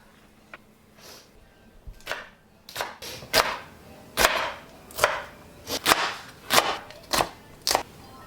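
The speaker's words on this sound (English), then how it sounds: "This is how I cut this flat beans." Knife chopping flat beans on a cutting board in a home kitchen, a series of sharp, close, irregular thuds that grow louder and more frequent, with no voices.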